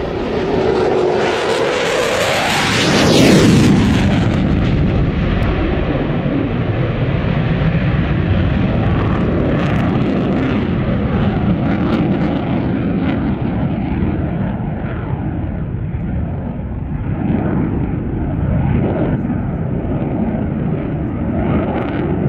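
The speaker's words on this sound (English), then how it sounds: "Here it is, bringing on the noise for you. Your fighter, Typhoon, number 29 Squadron, RAF Coningsby" A Eurofighter Typhoon of 29 Squadron RAF from Coningsby flies a display at the Royal International Air Tattoo, a loud jet roar that surges into a screaming pass around three seconds, then settles into a sustained rumbling thunder as it turns away.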